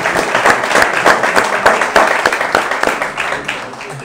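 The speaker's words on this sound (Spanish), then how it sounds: "Un aplauso" An audience at a Spanish-language debate on the Black Legend, part of a Hispanidad conference, gives a dense, steady round of hand clapping with many overlapping claps, sustained at even loudness for the full stretch.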